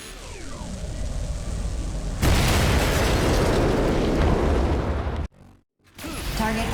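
A destroyed target explodes in the video game Daemon X Machina, a loud sudden boom that swells into a long roaring blast over a low rumble, cutting briefly to near silence before the noise returns.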